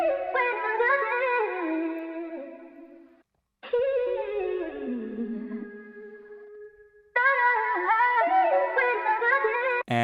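Pitched vocal chops from the Minta Foundry Vocal Chops Prelude plugin, sung syllables shifted up and down in pitch, played loud and alone in three phrases separated by a short gap, with one long held note in the middle.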